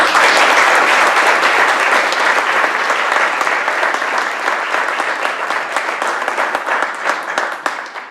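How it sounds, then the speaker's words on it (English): Sustained, loud applause from a pitch contest audience welcoming the competitors, dense clapping filling the whole stretch and tapering slightly toward the end. "let's give them one initial big round of applause"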